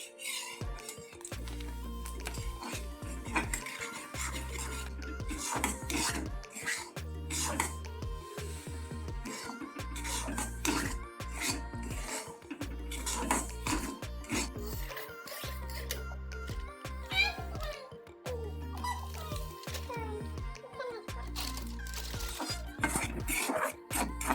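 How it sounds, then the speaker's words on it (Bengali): Semolina fried in ghee in a kadai for puli pitha, with a spatula scraping and stirring continuously and steady crackling throughout, close by, while a voice talks over it at times. "তো মা সুজি ভাজা করছে"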